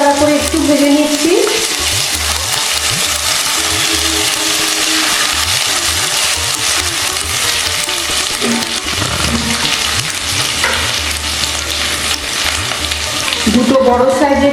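Ginger stirred and fried in a pan for South Indian sambar dal, a loud, dense sizzle with rhythmic scraping of a spoon, rising briefly toward the end.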